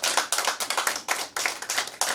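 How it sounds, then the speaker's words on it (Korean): An audience claps in encouragement at a Korean Christian leaders' New Year worship service: a dense, lively burst of many hands in rapid uneven beats, close and steady throughout. "격려의 박수를 한번 주십시오."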